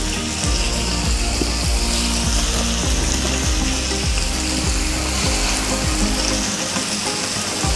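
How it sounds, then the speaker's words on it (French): Butter sizzling loudly as it browns in a pan while a club sandwich is made, a dense continuous frying hiss with faint clicks and knocks beneath it. "une fois que le beurre il est bien en train de dorer"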